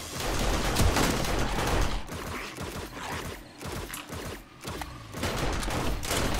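Rapid machine gun fire in the zombie survival video game 7 Days to Die, dense bursts of shots rattling continuously with short pauses, moderately quiet and without talking.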